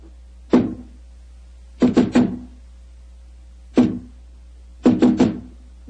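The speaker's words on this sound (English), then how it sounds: "Who knocks?" Knocks on a solid door as a radio drama sound effect: four groups of sharp, close wooden raps (single, triple, single, triple) with silent gaps between, loud and clear with no talk.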